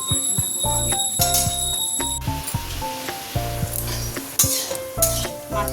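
Spices for a curry sauté in a pan with a continuous hissing sizzle and occasional stirring clatter, heard under loud tonal background music.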